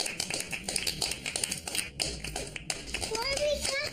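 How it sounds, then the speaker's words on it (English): Rapid hand clapping from a small group, steady and busy, with children's voices chattering over it throughout. "Why are we clapping?"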